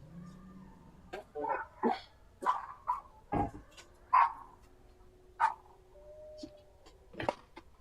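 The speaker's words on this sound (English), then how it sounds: "I have like 8 dogs, and when one goes off, they all go off" A household dog barks in a string of sharp, separate woofs spaced irregularly over several seconds, fairly close, with a brief thin whine between barks in a quiet room.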